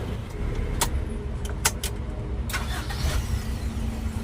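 A Toyota Revo engine being started despite a recurring clunk after two solenoid replacements: brief sharp clicks and knocks, then an engine catching and settling into a steady low idle, heard close up.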